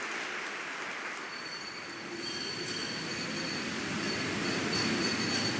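Train pulling into a station, a gradually building rumble of wheels on rails with faint squealing, moderately distant and rising toward the end, no voices.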